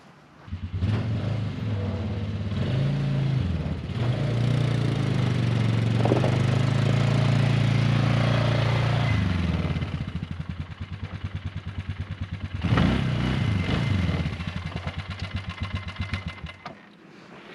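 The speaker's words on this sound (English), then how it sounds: "the most fair comparison we could do between this budget Chinese ATV or quad or whatever you call it is a 15-year-old Polaris 500 high output" A 15-year-old Polaris 500 high output ATV engine runs close by, a loud rough rumble that swells and settles into a pulsing idle, then revs up briefly before easing back down.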